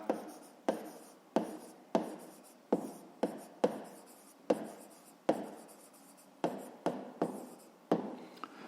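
Pen writing on paper during a fifth-grade maths lesson on rectangle perimeter: about a dozen crisp close strokes in an uneven rhythm, each a sharp scratch fading quickly, with no talk.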